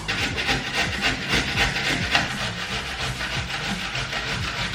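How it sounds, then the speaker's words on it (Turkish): Carrots and cucumbers being grated, a continuous rough rasping scrape with steady back-and-forth strokes, close and fairly loud with no talking. "Sonra havuçlarımı ve salatalıklarımı rendeliyorum."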